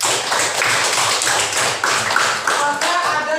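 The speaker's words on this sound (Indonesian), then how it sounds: "berikan aplaus kepada kelompok 1" Students in a classroom applaud group 1 after its presentation, a lively burst of many hands clapping quickly and unevenly for several seconds, close and fairly loud.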